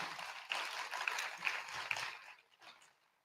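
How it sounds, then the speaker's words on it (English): At a memorial celebration of life, a small audience gives a round of applause, scattered clapping swelling briefly then tapering off, faint and somewhat distant. "I'll give him a round of applause."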